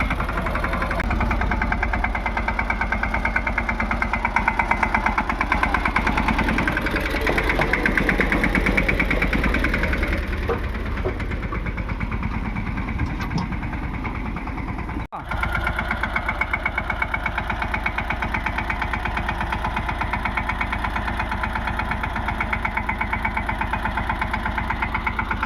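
A mini tractor engine runs steadily the whole time, a loud, continuous mid-range drone with knocking vibration and a short dip near the middle, no talk over it.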